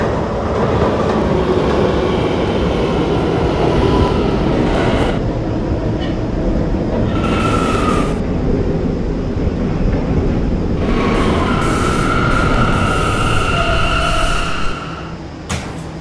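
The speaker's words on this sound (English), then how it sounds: "This is a West Batant bound K train." A K line subway train runs along the track with a steady loud rumble and rattle of the car, brief higher squeals and tones rising intermittently, fading toward the end; no voices.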